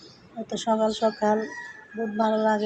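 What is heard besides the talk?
chicken calling in the early morning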